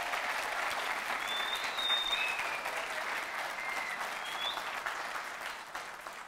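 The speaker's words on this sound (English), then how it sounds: "Give them a big round of applause." Steady applause from a large audience at an Irish women's sports awards ceremony, dense and sustained for several seconds and gradually thinning toward the end, with no speech over it.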